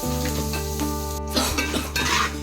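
Masala for kara pori roasts gently in a pan over a low flame, a soft continuous sizzle with light scraping from stirring, close and steady with no talking.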